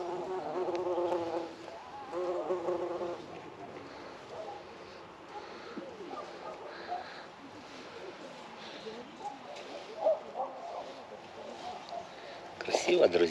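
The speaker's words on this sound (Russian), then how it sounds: "Тут шмель уже летает, собирает пыльцу." A bumblebee flies among tulips gathering pollen in a Crimean flower park. A close buzzing hum drifts in and out, rising and fading over a soft outdoor background with a few faint other sounds.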